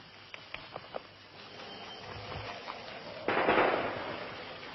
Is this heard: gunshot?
yes